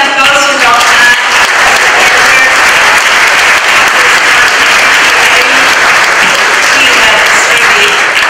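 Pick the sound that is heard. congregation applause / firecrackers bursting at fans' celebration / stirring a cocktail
congregation applause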